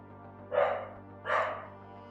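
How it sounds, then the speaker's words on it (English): A pet dog barks twice, a pair of short, moderately loud woofs about three-quarters of a second apart, over a faint steady hum indoors. "My dog."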